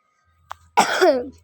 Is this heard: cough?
yes